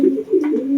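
Racing pigeons coo in low, throaty rolling calls while being basketed into training boxes before a north derby race, several soft repeated coos close by with no talk.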